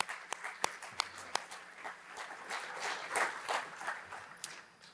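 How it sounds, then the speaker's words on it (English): Audience applause at a global research community symposium, starting as scattered distinct claps and swelling into a fuller, denser round of clapping from a hall audience. "One last applause."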